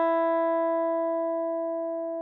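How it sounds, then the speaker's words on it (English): A single open first-string E rings out on a guitar, clean and sustained, decaying slowly over about two seconds with no other sound. "Down a string, 1st string, no fingers, E."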